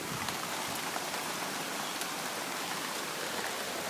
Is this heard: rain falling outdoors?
yes